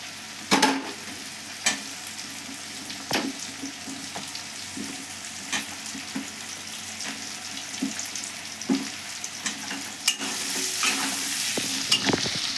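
Small cut pieces of potato frying in a pan for a prawn and potato curry make a continuous sizzle, with repeated stirring scrapes and clacks from a utensil at irregular intervals, close by and with no talk.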